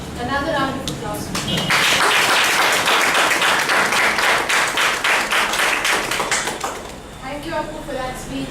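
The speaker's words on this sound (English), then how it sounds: "Another round of applause." Applause in a public-speaking club meeting swells to a dense, loud patter and fades out, with a voice heard briefly at the start and again at the end.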